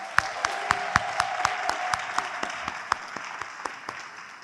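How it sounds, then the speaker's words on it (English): An audience at a Black History Month heritage night gives a round of applause for high school students and teachers, with moderate, steady clapping from a crowd and a few sharper nearby claps standing out. "The students and teachers at Birkmark and Discovery High School, give them a round of applause."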